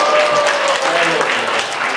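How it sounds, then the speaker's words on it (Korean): A short, steady burst of audience applause for a group of children, dense clapping at an even level throughout, with a faint voice or tone briefly audible beneath it. "위해서 박수 부탁드립니다"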